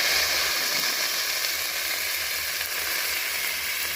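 Radish greens hit hot tempered oil in a pan, giving a loud, steady frying sizzle with a bright hiss that runs the whole time without a break.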